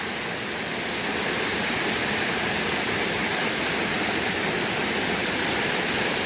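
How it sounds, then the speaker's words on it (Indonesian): A river flows through a trekking route near waterfalls, a dense, steady roar of rushing water close by with no voices. "Ini aliran sungainya."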